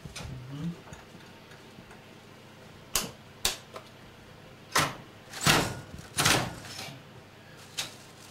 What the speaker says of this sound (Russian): Печатный станок у нас. Печатаем.